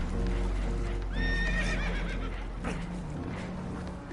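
A spooked horse in the video game Red Dead Redemption 2 lets out a sharp, shaky whinny close by, with faint hoof clops and a low steady rumble behind it.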